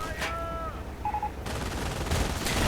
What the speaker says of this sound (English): MG42 though opening up.